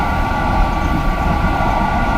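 Roaring rush of a high-speed train at 280 km/h in Train Simulator Classic, heard close up from outside the carriage as a loud, dense rumble of wind and track noise.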